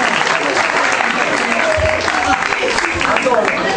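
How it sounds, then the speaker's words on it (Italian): A theatre audience applauds a performance by an amateur company, dense steady clapping filling the room, loud and close throughout. "vorrei fare di nuovo un grandissimo applauso alla compagnia degli amici dell'arte"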